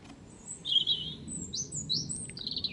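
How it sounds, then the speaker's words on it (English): Several small birds sing high, thin phrases, robin-like warbles repeating in short bursts over a soft outdoor background. "Robins about."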